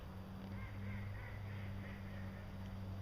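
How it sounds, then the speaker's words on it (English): Ducks honking and quacking faintly in the distance, a soft repeated calling over a low steady outdoor hum. "The ducks are laughing at me."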